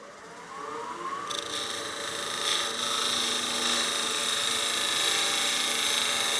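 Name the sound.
wood lathe turning cut on a bat house ornament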